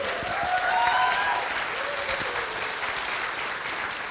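An audience at a motivational speaking event claps steadily, a dense, even round of applause from a crowd throughout, with only faint voices beneath.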